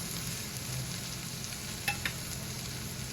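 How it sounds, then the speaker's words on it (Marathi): Dried fish (sukat) sautés in a pan, giving a soft steady sizzle close by, with a couple of brief clicks from stirring and no talking. "सुकट छान परतून झाली आहे."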